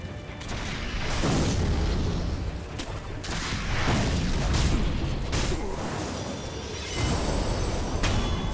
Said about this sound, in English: there's a guy firing down from below